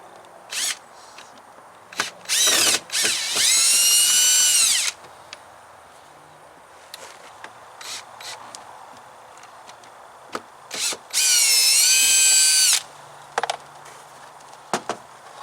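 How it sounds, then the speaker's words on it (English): A power drill removing door panel screws on a 1993-2002 Firebird or Camaro whirs in two long bursts several seconds apart, with short clicks and taps of tools and screws between, close and loud. "So I'm just going to start removing the screws."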